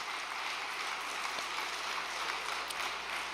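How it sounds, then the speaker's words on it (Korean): An audience at a church overnight devotion gathering claps in thanks, producing a dense, steady wash of applause that holds at an even level from start to finish, with no voices over it. "허양 회장님께도 감사의 박수를 한번 부탁드리겠습니다"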